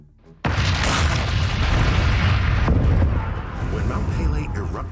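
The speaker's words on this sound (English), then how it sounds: "the explosion produced a sound so loud" The 1902 volcanic eruption of Mount Pelée on Martinique is rendered as one sudden, loud explosive boom that keeps rumbling for several seconds, with a narrator's voice running over it.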